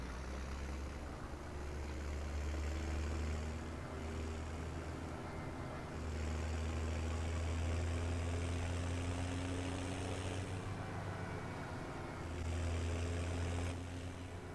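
An old farm tractor engine runs steadily, pulling a trailer, with a low, droning rumble that swells and eases in waves as the revs shift, fairly close and with no talk.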